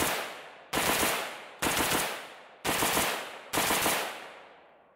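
A Zastava M90 rifle fires five loud, sharp shots spaced roughly a second apart, each with a long echoing decay outdoors.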